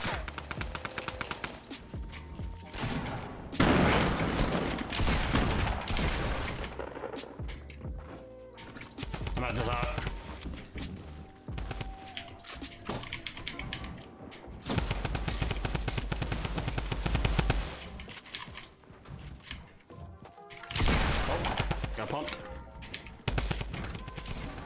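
Bursts of automatic and single-shot gunfire in a shooter video game, arriving in clustered volleys with pauses between them, while players talk excitedly over the shooting.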